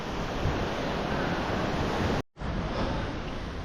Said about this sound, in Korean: 바닷바람이 시원합니다.